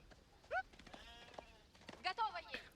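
Sheep bleat in an Age of Empires match, a few short nasal calls standing out over quiet game ambience while a voice talks faintly underneath.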